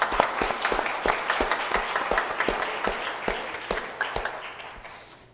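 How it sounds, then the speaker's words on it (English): A church congregation gives a warm welcome round of applause before the Sunday service, steady crowd clapping with distinct individual claps that gradually taper off. "we'd like to bless you with a warm welcome round of applause."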